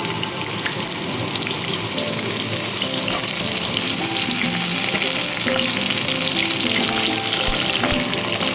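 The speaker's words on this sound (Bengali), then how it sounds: "এবার দেখুন পটলগুলো ছেড়ে দেব আর অল্প নুন হলুদ দিয়ে এগুলোকে ভেজে নেব" Pointed gourd pieces fry in hot mustard oil with salt and turmeric, giving a loud, steady, dense sizzle that holds without pause throughout.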